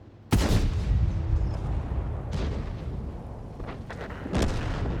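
A tank gun firing in World of Tanks: one loud, deep boom with a long rumbling tail, then two fainter distant blasts a few seconds later.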